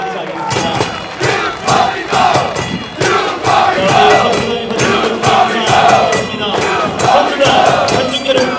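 A football stadium crowd claps and cheers for the FC Anyang players, a loud, sustained roar with rhythmic bursts of chanting and applause rising and falling throughout.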